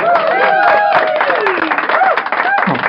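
Canned applause effect triggered from a KX-1 sound card, a dense wash of clapping and crowd noise with whistle-like tones running throughout, steady and loud.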